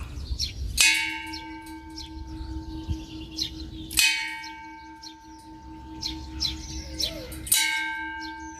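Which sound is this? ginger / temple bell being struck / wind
temple bell being struck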